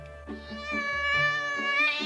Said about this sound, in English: Meow! Said the cat.